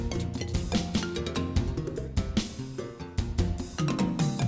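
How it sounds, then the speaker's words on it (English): Bright xylophone bar tones from moving xylophone pieces in a game ring out in a busy, shifting melodic pattern, mixed with dense clattering percussion, steady and moderately loud throughout. "It hits the moving xylophone pieces."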